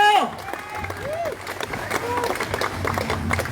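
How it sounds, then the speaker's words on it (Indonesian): Crowd applause and scattered cheering at a street demonstration outside the DPD RI building in Bali, a sustained wash of clapping from a gathered crowd with a voice heard over it early on. "Tepuk tangan buat Ido."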